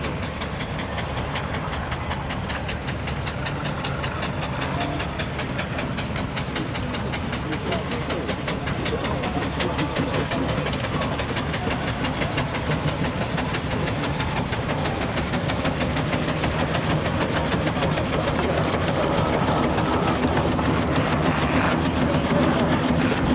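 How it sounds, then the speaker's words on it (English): An Aveling and Porter traction engine climbs a hill at a steam rally under heavy haulage, giving a steady loud mechanical chugging and rumble throughout, with crowd and voices mixed in. "Next to tackle the hill is a single crank compound barrel and a Evelyn and"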